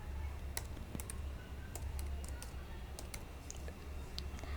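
Code being typed on a computer keyboard for a PHP and MySQL e-commerce site: faint, scattered key clicks in uneven bursts over a steady low hum.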